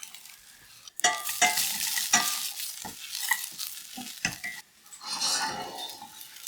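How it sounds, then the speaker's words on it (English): Grated coconut dry-roasting in a pan is stirred in short, irregular scraping strokes, with soft crackles between them, close and fairly quiet. "We'll keep on stirring time to time so that it doesn't stick or burn."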